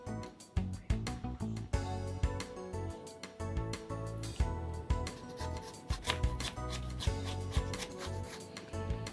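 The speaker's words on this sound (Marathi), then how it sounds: "दुधी त्याची साल काढून किसून घेणार आहोत" Peeled bottle gourd being grated by hand, giving steady, rapid, close-up rasping strokes in a quick repeating rhythm with no voices.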